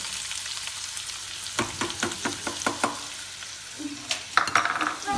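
Onions frying in a pan for pasta sauce: a steady close sizzle, then a run of quick rhythmic spatula scrapes and taps against the pan, ending in a brief sharper crackle.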